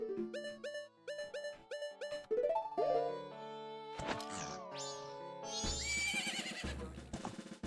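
A horse in The Legend of Zelda: Majora's Mask gives a loud whinny among a string of game sounds, with clipped musical notes early and bright chiming effects later, and no voices.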